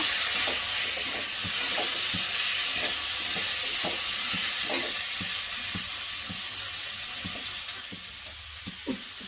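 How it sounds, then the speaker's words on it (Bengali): Thor bora fritters frying in a pan in a village kitchen give a continuous hiss of sizzling oil, broken by regular scraping stirs at fairly even intervals and heard up close. "বড়া ভাজতেছি।"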